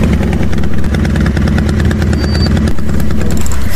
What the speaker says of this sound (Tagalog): Isardang ko ti motor ko.